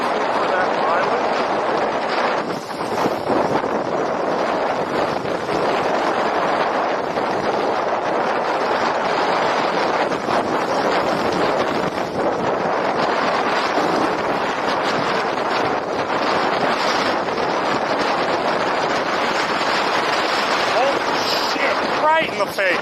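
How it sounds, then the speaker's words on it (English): Strong headwind roars and buffets against the microphone while riding a cheap long-range ebike on a 100-mile journey, a loud continuous rushing that barely varies throughout. "Wind right in our face."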